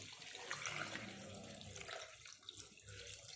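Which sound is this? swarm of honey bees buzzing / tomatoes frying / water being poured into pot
water being poured into pot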